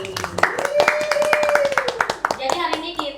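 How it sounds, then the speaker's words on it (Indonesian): An audience on a comedy and education talk show claps in a scattered burst of applause, the claps sharp and close, with voices chattering underneath. "Tepuk tangan lagi."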